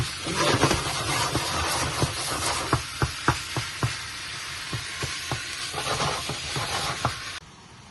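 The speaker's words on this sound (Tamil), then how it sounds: "இப்படியே இது பொரிஞ்சு வரும் நல்லா பொரியும்" Spices sizzle steadily in hot oil in a pan, popping and spluttering in sharp irregular bursts against a constant hiss that cuts off near the end.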